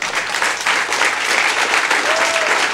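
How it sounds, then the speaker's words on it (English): An audience at a hacker conference talk breaks into sustained applause, dense and even throughout, with faint voices mixed into the clapping. "You can clap if you want."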